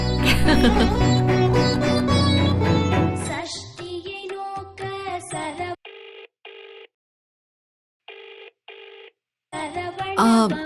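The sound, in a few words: mobile phone ringtone ringing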